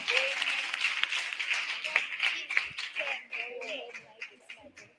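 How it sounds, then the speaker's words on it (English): Audience at a primary school environment quiz grand final breaking into applause, brisk clapping that gradually thins and fades out while a voice speaks over it. "Please give her a big round of applause"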